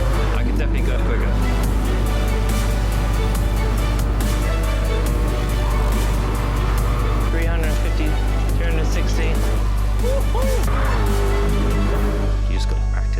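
A car engine in Gran Turismo Sport drones steadily at high revs with shifting pitch, loud and continuous beneath someone talking over it.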